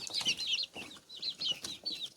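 Young chickens, kept out of their pens and eating greens, cheep and cluck in short high-pitched bursts, close and fairly quiet, with no talking.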